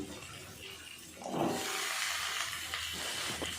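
Cut eggplant and potato hit hot spices in a pan, bringing a soft sizzle that swells and then holds as a steady faint hiss.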